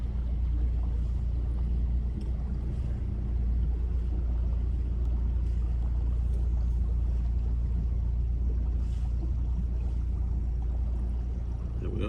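A steady low engine rumble from a boat on the Norfolk Broads, droning continuously and fairly close, with water noise running underneath throughout.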